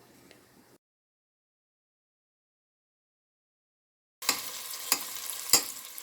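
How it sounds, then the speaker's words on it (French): Tomatoes and onion cooking in hot oil in a pot, a brief faint sizzle, then a long silence, then a louder crackling sizzle with sharp stirring knocks near the end. "on a mis de l'huile à chauffer, on a mis les 2 tomates et l'oignon à mijoter"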